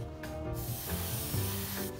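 Airbrush spraying paint onto a 15mm Jagdpanther tank model, a close steady hiss of air that runs without a break for two seconds with no talking.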